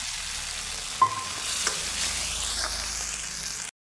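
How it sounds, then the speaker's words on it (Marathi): Spinach and paneer gravy for palak paneer stirred and sautéed in a pan, a soft continuous sizzle with a few scraping stirs and light clicks of the spoon before it cuts off. "थोडं परतून घेतल्यानंतर आपण ही ग्रेव्ही घालायची आहे"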